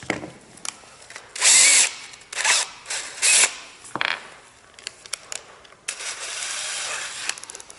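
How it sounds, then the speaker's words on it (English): A power drill whirs in loud bursts, spinning a tightly woven buffing mop against an old narrowboat porthole, with short pauses between runs. "I think I'll have a go with this mop and the drill first"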